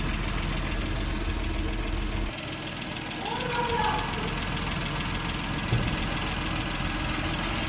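A used engine meant for a Kia Bongo truck runs at idle with a steady, even drone and a faint knocking rhythm, a brief dip partway through, with murmured background voices.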